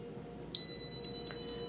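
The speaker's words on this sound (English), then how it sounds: "the digital speed controller will give a very loud beep" An ELECYLINDER digital speed controller emits a single loud, steady electronic beep after a long press of its up button, sounding alone in a quiet room.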